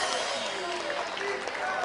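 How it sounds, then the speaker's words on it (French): Applause and crowd noise rise from an audience at a live spoken-word concert in a French-speaking venue, a steady dense wash through the whole moment with voices mixed in. "Donc applaudissez pour moi alors."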